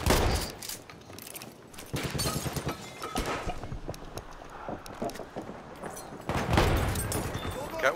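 Battlefield 1 gunfire on the Giant's Shadow conquest map: repeated shots and bursts crackle through a busy battle soundscape, loud at times and fading back, mixed with rumbling ambience and occasional talk.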